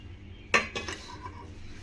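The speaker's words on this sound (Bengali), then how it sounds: "তিনটে বাটি আমি সেট করে দিয়েছি এবার একটা থালা দিয়ে আমি ঢেকে দিচ্ছি" Metal bowls being set into a steamer over a high gas flame, then covered with a plate: one sharp metallic clink followed by a few softer clatters, close and fairly quiet, with no talking.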